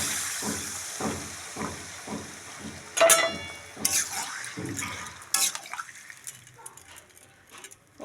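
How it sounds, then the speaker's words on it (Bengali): Water is poured into a hot pan of cauliflower and potato curry, setting off a loud hissing sizzle in a few bursts that settles into quieter bubbling. "আমি এবার একটু জল দিয়ে দেবো।"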